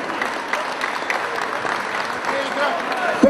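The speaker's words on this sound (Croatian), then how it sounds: "Jedan aplauz molim." An audience applauds steadily at an awards presentation after a football final, a continuous close wash of clapping with a voice briefly audible near the end.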